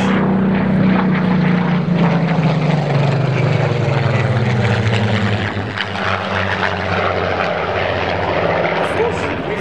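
A propeller aircraft drones loudly overhead at the Duxford Flying Legends air show, its deep, throbbing engine and propeller tone steady throughout and slowly shifting in pitch. Someone talks over the noise.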